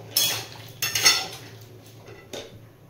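Potato and papaya are stirred in a metal kadai with a spoon, giving three or four sharp clinks and scrapes of metal on metal, close and separated by short pauses.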